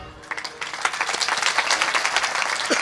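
An audience claps after the presenter asks for it, steady clapping from many hands that builds and carries on for a few seconds at moderate loudness.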